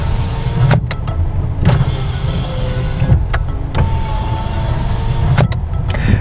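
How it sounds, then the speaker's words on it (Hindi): Power windows in a Hyundai i20 Asta hum up and down inside the car, a steady motor drone with several sharp clunks as the glass stops at each end of its travel. "गाड़ी के जो विंडो अप एंड डाउन की जो स्पीड है ये काफ़ी ज़्यादा है, ये देखो"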